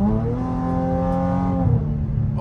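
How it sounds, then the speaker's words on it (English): A V6 car engine revs loudly and steadily up close, holding a droning tone that dips in pitch partway through, with no talk over it. "I love the V6 because it makes so much loud noise and don't go nowhere"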